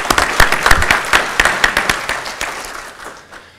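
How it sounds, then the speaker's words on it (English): A small crowd at an executive ethics symposium claps for a few seconds, a scattered burst of applause that gradually thins and fades out. "How about a warm round of applause for Lisa?"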